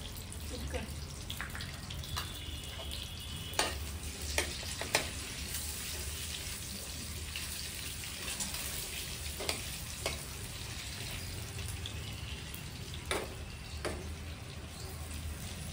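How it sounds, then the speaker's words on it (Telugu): Turmeric frying in hot oil for a boiled egg curry gives a steady low sizzle, quiet and close, broken by occasional sharp clicks and scrapes of a spoon against the pan. "మంచిగా మంచి కలరు మొత్తం బ్రౌనిష్ కలర్ అయ్యేదాకా మనం వేయించుకోవాలి."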